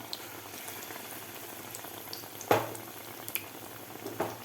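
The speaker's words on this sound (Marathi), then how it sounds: "म्हणजे व्यवस्थित तळले जातात." Colocasia leaf fritters (aloo bhaji) frying in hot oil, a steady soft bubbling with a few sharper pops and crackles, close but quiet.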